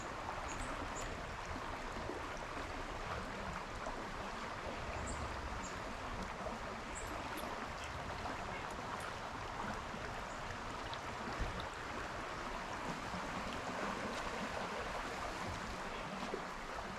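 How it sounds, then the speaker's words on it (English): Water flows continuously in a broad, steady rush, like a nearby creek running over stones, with no other sounds standing out. "Quiet creek."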